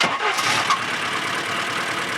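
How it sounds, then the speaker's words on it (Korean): An old car engine, once hit by a cow, starts in a remote Pamir mountain village and settles into a loud, steady rattling idle, heard close up without talk. "와 엔진이 걸리는구나. 막 덜덜거리는데."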